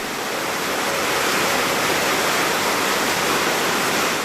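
Kataraltı waterfall on the Katarahte stream near Güneysu in Rize pours in a loud, dense, unbroken rush of falling water, close by and steady, with no voices.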